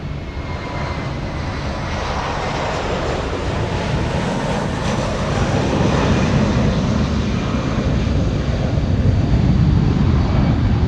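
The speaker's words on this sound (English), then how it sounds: "Delta 1048 flying to Minneapolis, finally getting a move on, about to lift off." A Delta jet airliner, flight to Minneapolis, rolls for takeoff at Los Angeles International Airport, its engines giving a loud, sustained broadband roar that builds steadily and holds for several seconds.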